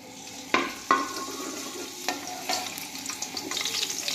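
Chopped garlic frying in oil in a wok, a soft sizzle broken by several sharp scraping clicks of a spatula stirring against the pan, fairly quiet with no talking.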